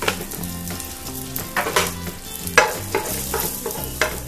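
Cashew nuts and raisins frying in oil in a pan for a vegetable biryani, a steady close sizzle broken by repeated sharp stirring scrapes and clinks, with no voices.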